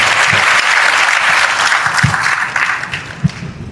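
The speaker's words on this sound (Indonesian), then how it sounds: "Tepuk tangan dulu buat saya yang tadi sudah terlibat memberikan jawaban." High school students clap together in a hall, a loud, full burst of many hands that thins toward the end, with a few heavier thumps and no speech over it.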